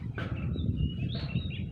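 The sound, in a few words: birds calling outdoors at a hill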